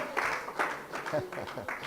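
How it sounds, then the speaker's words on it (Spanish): A church congregation in a Spanish-language service claps in short, uneven bursts, with voices calling out over and through the applause. "Démosle un aplauso al Señor"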